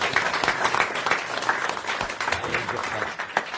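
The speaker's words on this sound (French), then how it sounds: "vos applaudissements" Studio audience applause for a contestant on a French TV game show, dense steady clapping filling the room throughout with a few sharper claps standing out, with a faint voice underneath.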